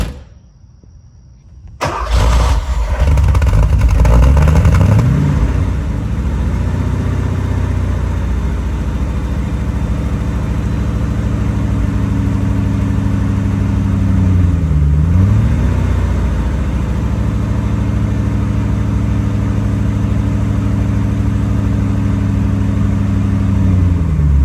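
A Porsche 928 V8 cranks over and fires, then settles into a loud, close, uneven idle running rough, with wavering pitch and periodic dips in engine speed throughout.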